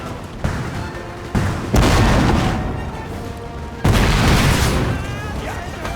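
Canister shot cannon fire in Napoleon: Total War, several heavy booming blasts in irregular succession, each trailing into a long rumbling decay over the din of battle.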